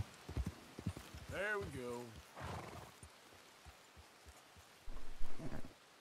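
In Red Dead Redemption 2, a horse gives a close, wavering neigh amid soft hoof thuds, while someone speaks briefly over it before things settle into quiet footfalls and a little more talk.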